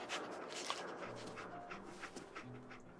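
Dogmeat, the dog in the Fallout 4 video game, panting softly and whimpering at low volume beneath faint background game sounds.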